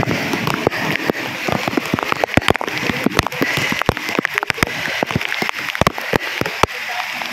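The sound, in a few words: rain falling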